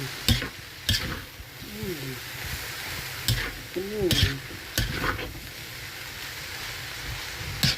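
Food in a frying pan is stirred with a few sharp scraping strokes over a continuous sizzle, close by, with a faint voice murmuring in the background.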